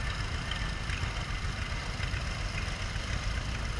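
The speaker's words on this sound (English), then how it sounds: "Wonderful tractor, good restoration, and it runs great." Restored tractor engine running at a parade of power, a loud, steady low rumble with a rough, thumping idle texture and no talk.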